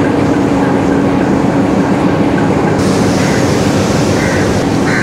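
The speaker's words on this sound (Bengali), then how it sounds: "ওইটা আমাদের ট্রেন।" A train at Colombo station in Sri Lanka, heard as a loud, continuous rumble with rattling carriage noise and a faint tonal whine, close and steady throughout, with no voices.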